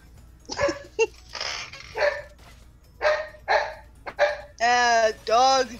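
Cartoonish dog barks and yips from the video game Freedom Planet, a run of short clipped barks followed by two longer sustained whine-like cries, loud and close over a low game background.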